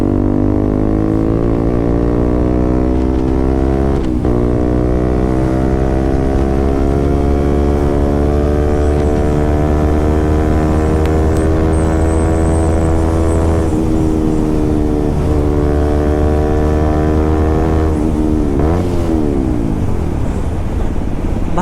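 KTM RC 200 motorcycle fitted with an aftermarket SC Project exhaust, revving loudly and close up with a strong, buzzy single-cylinder tone that rises and falls through several blips, with no talking.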